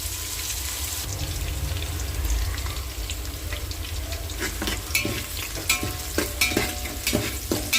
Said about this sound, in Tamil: நல்லா கொஞ்சம் வதங்கட்டும்.